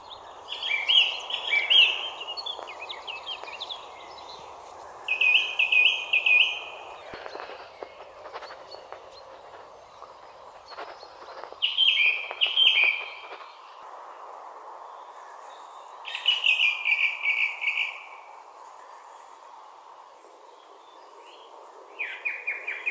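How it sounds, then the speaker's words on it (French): Thrushes sing short, bright phrases at regular intervals, each a few seconds long, over a quiet outdoor background with faint insect hum. "où vraiment on n'entend plus que les grives"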